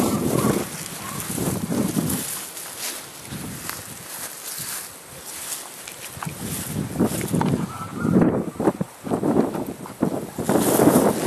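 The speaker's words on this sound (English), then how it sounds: "Wind's coming straight down the hill" Wind blows down a hill outdoors in gusty, uneven surges, with buffeting on the microphone and rustling that rises and falls close by.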